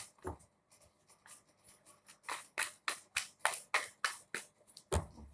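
A deck of tarot cards being shuffled by hand, soft quiet riffling swishes and taps in a quick uneven rhythm, close and alone.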